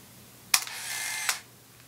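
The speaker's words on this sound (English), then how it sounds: "It has a pretty unique shutter sound" A compact Canon point-and-shoot film camera fires its shutter, a sharp click followed by a brief whirring motor buzz and a closing click, close and isolated.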